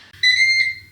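A Ninja Foodi pressure cooker gives a single short electronic beep, clear and close, after finishing pressure cooking a lemon chicken and rice casserole.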